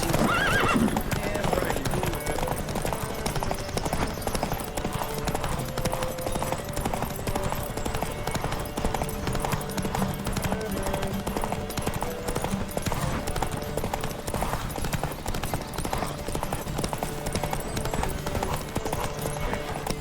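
Steady, rhythmic hoofbeats of a horse galloping in The Witcher 3, loud and continuous for twenty seconds, with an occasional whinny and game background sound underneath.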